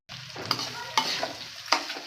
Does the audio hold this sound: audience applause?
no